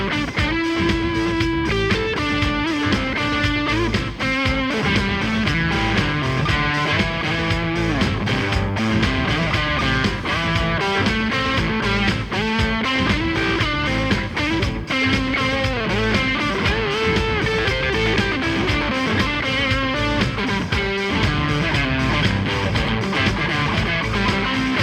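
Distorted electric guitar improvising a lead built from short repeating pattern sequences stacked back to back, dense and continuous at steady loudness for about twenty-five seconds with no talking.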